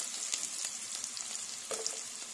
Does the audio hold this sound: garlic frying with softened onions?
yes